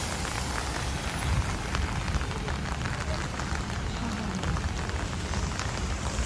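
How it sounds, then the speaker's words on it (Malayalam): Heavy rain pours down on a Dubai street during a morning walk, a loud, dense, continuous hiss of drops drumming on surfaces, with no break throughout. "സാറ്റർഡേ മോർണിംഗ് മഴ തുടങ്ങി."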